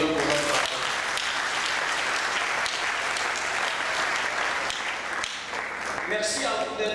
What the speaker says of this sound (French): Est-ce qu'on peut acclamer le Seigneur pour notre part?